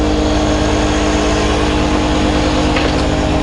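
A 9.9 hp outboard boat motor running steadily, close and loud, with a constant throbbing drone and no talking.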